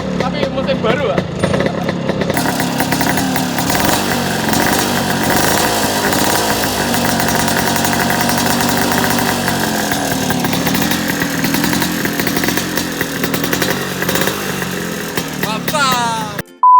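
A Vespa scooter engine runs with a loud, raspy exhaust drone that holds steady throughout, with brief talk near the start.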